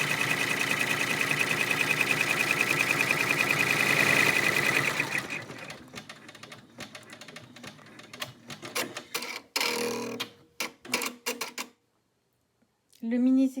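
An embroidery machine runs a dense, steady mechanical stitching buzz while sewing a mini zigzag through sponge and cotton, then slows into intermittent short bursts and stops, with a brief pause near the end.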